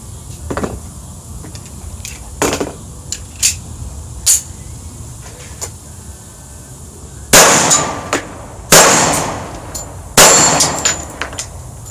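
A Girsan 1911 pistol fires several loud, sharp shots outdoors, spaced a second or more apart, with quieter clanks and metallic handling clicks between them.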